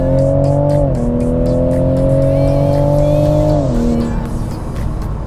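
A Toyota Supra kicking down in 3rd gear from around 4,000 rpm at 40 mph, its engine roaring loudly with a strong rising drone that climbs steadily, then drops as the gear changes.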